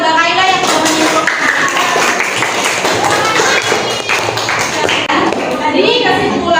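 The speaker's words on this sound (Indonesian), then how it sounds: "berikan tepuk tangan buat Mbak Kaila yang sudah menyimpulkan" Students in a classroom applaud a classmate, a dense burst of close clapping with overlapping children's voices throughout.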